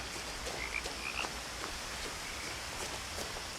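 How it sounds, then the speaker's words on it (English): Frogs croaking in the night ambience of the What Remains of Edith Finch video game, a few faint chirping croaks in quick pairs over a soft, steady outdoor hiss. "Imagine sleeping here, all you hear is just frogs and owls"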